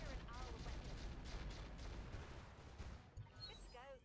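Mech weapons fire in the RogueTech game, a dense rolling barrage of booms and impacts that thins out toward the end, faint and distant overall with a brief sharper hit near the close.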